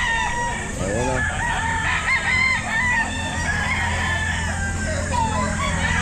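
A young gamefowl stag crows at a busy pet market, the drawn-out call rising over steady crowd noise and a low mechanical hum, with other fowl calling around it and faint voices nearby.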